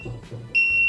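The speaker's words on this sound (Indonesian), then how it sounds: "itu untuk buzzer mount panel atau alarmnya sudah menyala" A buzzer alarm on a blower control panel with an STC 1000 thermostat cuts in midway as a sharp, steady, high-pitched tone, following a soft low rumble.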